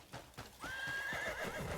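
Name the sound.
horse neighing and hooves in a video game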